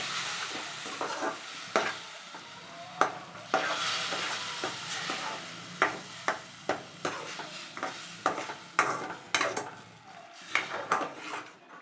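Semolina for rava kesari is stirred in a pot as water is poured in bit by bit, with repeated sharp scrapes and knocks of a spoon against metal over a soft, steady bubbling sizzle.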